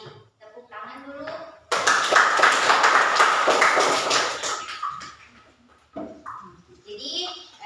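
Classroom of students clapping together after group work in a teacher training lesson, a dense burst of hand claps lasting several seconds, preceded and followed by a teacher speaking.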